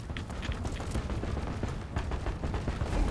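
Busy, steady shooting in the video game Deep Rock Galactic, with rapid weapon reports layered over a dense, noisy battle backdrop, fairly constant and without clear pauses.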